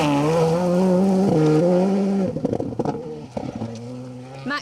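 A Skoda rally car on a Cambrian Rally stage sweeps past close by, its engine howling through rising gear changes, then crackling and popping on the overrun as it lifts off and pulls away.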